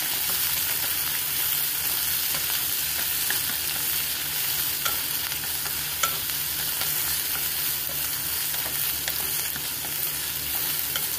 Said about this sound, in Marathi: कांदा टाकून घेतल्यावर मस्त आपल्याला परतून घ्यायचं कांदा, राई, हिरवी मिरची